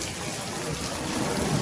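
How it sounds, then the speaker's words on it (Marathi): Heavy rain pours down steadily at an outdoor Dahi Handi festival, a dense, even roar of falling water with no break and no talking. "पाऊस आहे खूप."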